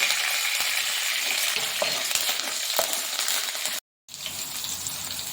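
Tempering spices, peanuts and green chillies with a pinch of asafoetida fry in hot oil, a close continuous sizzle with occasional stirring clicks, broken by a short silent gap.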